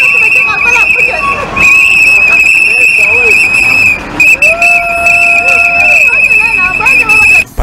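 A shrill, sustained whistle blows loudly over a noisy, excited crowd, with a few brief breaks and some chirping trills.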